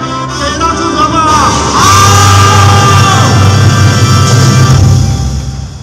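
An election-rally crowd cheers for a candidate, with loud yells and whoops swelling and holding for several seconds, close and dense.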